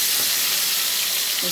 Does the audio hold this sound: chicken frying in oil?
yes